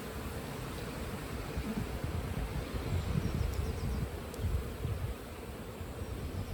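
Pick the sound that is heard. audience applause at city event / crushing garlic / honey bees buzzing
honey bees buzzing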